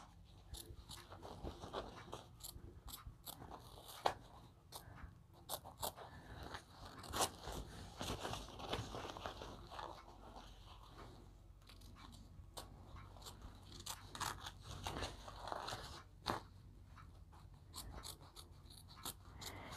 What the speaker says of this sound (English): I'm going to trim all this excess stabilizer off